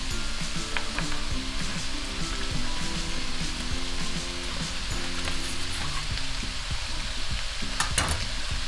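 Carrots frying in a pan with seasoning for a shepherd's pie filling, a steady close sizzle broken by scraping and clinking as a utensil stirs them, with a sharper clatter near the end, no speech.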